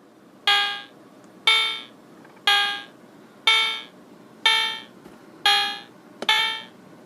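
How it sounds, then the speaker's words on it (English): Seven loud electronic beeps from a 1981 Bullet Electronics ZULU 3TZ digital clock's 10-minute station ID timer, evenly spaced about a second apart, each a bright harmonic tone that sharply starts and quickly fades, with nothing else behind them. "it'll beep insistently, like it just did, until you press the reset button"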